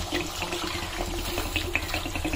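Water pours steadily into a cooking pot of curry in a home kitchen, a continuous close splashing and gurgling stream heard alone without talk.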